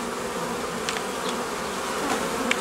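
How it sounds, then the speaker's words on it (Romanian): A swarm of honey bees at a hive during swarm splitting, a dense, steady buzzing drone close by with occasional brief louder passes of individual bees. "Iată, așa e roiul care este luat din acest stup și va fi mutat."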